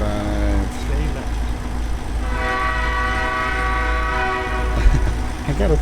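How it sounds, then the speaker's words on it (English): A passing train in the American Truck Simulator video game blares its horn in long sustained blasts over a steady low engine rumble, loud and close, while someone talks at times. "that train kind of scared the shit out of me"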